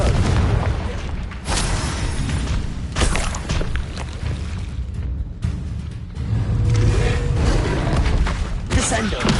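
In Hogwarts Legacy combat, Confringo blasting spells go off as repeated booming bursts and crackles, layered densely and loudly over continuous battle noise.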